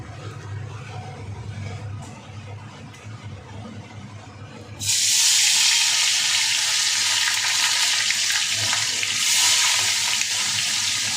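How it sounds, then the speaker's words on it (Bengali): Small bata fish dropped into hot oil in a pan: a low murmur gives way to a sudden loud, steady hissing sizzle that continues close and unbroken. "তো চলো এবার ঝটপট মাছগুলো আগে ভেজে নিই।"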